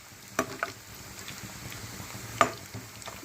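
Watermelon rind pakodi frying in hot oil on medium heat: a steady low sizzle and bubbling, fairly quiet, with a couple of sharper spatters and a louder pop near the end, no talking.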